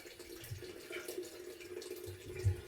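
Water runs into a jar of beets and salt for homemade beet kvass on an off-grid homestead: a quiet, steady trickle and splash with a low gurgle, close and alone.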